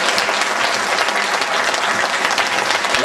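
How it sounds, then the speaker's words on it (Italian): A theatre audience at Teatro Euclide bursts into dense, loud applause as performers are introduced on stage, a steady wash of many hands clapping without pause throughout. "Applauso."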